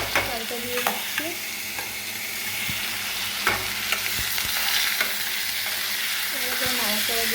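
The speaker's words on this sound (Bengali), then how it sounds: "এই যে গোবিন্দভোগ চালটা আর তোমার মুগ ডালটা ভেজে ধুয়ে রেখেছি, এটা দিয়ে দেবো। চালটা দিয়ে দিচ্ছি" Gobindobhog rice and moong dal hit a hot pan and are stirred, bringing a steady sizzle with scraping spoon strokes and clinks, close by and without talk.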